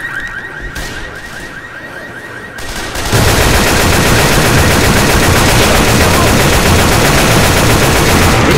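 Sustained rapid gunfire in Left 4 Dead 2 erupts after a quieter opening, loud and continuous like automatic weapons firing, with no pause.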